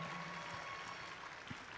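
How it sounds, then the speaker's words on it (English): Applause for the referees at a district robotics competition in Columbus, a short burst of quiet, distant clapping from the crowd in a large hall. "Can you give them a huge round of applause?"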